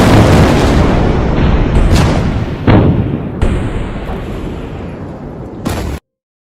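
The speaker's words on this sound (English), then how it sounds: "A second massive explosion that some described as like an earthquake." A massive explosion in Beirut, captured by nearby residents, lands as a huge broadband roar with several heavy booms rolling and echoing before cutting off abruptly.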